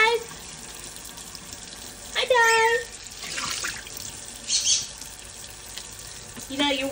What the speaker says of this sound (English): You know, you're wasting a lot of water.